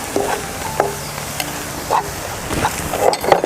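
Spices and onions sautéing in a pan with chilli powder, turmeric and garam masala for homestyle Kerala tapioca biryani, with steady sizzling and occasional stirring scrapes close by, no talk.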